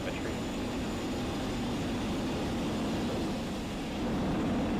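SpaceX Falcon 9 Block 5 engines roar during a night crewed Dragon launch, a dense continuous broadband rumble that holds steady and grows slightly near the end, with no talk.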